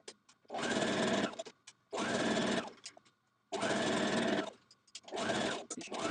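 A sewing machine stitches down the seam of a Vogue 1236 misses' dress in three long, even bursts of rapid whirring separated by short pauses, close and loud, then a fourth shorter run at the end.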